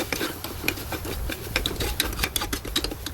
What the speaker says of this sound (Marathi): आणि हे सगळं व्यवस्थित हलवून घ्यायचं आहे.